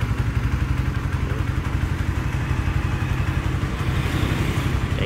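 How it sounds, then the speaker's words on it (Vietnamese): Suzuki Raider 150 motorcycle engine running steadily with a throbbing, slightly clattery beat, close and continuous with no talking. "Anh sắp lên cái Suzuki Raider nha anh em."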